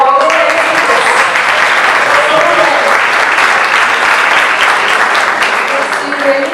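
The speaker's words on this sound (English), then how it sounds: "you really deserve a great round of applause for all the arrangements" Loud, sustained applause from an audience in an event venue, dense continuous clapping close by that holds steady for several seconds before easing slightly, with faint voices mixed in.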